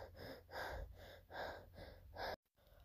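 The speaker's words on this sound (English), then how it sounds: "panting." Heavy panting from people who have just burst in through a door, four or five loud, rhythmic breaths close to the mic, each a rushing exhale, ending in an abrupt cut to silence.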